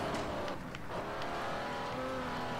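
Car engine in the racing video game Forza Horizon, revving and roaring steadily with shifting pitch and some tire noise, loud and continuous with no voices.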